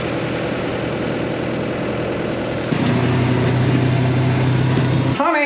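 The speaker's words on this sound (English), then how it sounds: "That guy over there on the loader, Lefty, using his new tractor, woohoo!" A new tractor with a front loader runs with a steady, rumbling engine drone that grows heavier and louder partway through before cutting off sharply at the end, with no talk.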